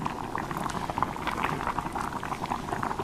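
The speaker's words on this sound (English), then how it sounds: "So the rice is on and it's bubbling its nuts off." Rice boils hard in a pot on the stove, with a dense, steady bubbling and seething, close and even throughout, with no talk.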